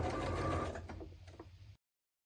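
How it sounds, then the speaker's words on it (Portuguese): A sewing machine runs a short burst of backstitching through fabric, a quick rattling whir that eases off and stops abruptly, followed by silence. "vou começar aqui na marcação com retrocesso. Vamos dar uns 2 retrocessos para ficar bem firmezinho. E vamos indo com a costura em toda a volta."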